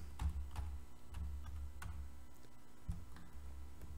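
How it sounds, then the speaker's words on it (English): Someone types on a chunky computer keyboard during a planning commission meeting, producing faint, irregular clacking keystrokes over a low steady hum, with no talking. "This keyboard is chunky."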